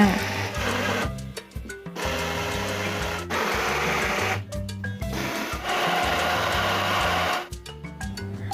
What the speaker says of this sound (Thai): จากนั้นเพื่อนๆก็ปั่นให้ทุกอย่างผสมเข้ากันเลยค่ะ